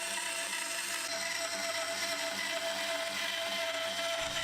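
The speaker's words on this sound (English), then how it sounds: "But as I have a bandsaw, I can use that too." A woodworking bandsaw cuts the outline of a bird house box from wood, giving a steady, unbroken mechanical whine and rasp that holds an even level throughout.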